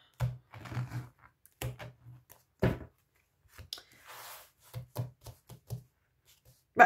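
A deck of tarot cards being cut and shuffled by hand, a series of soft, close, crisp taps and flutters in irregular bursts with quiet gaps between them.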